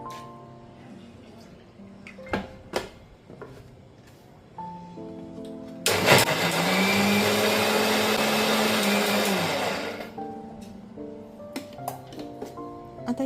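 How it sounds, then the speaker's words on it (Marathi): A kitchen mixer grinder blends soaked lentils (dal) in one loud, steady whirring burst of about four seconds. Quieter clinks and faint background sounds come before and after it. "पुन्हा आपण डाळ वाटून घेणार आहोत मिक्सरमध्ये"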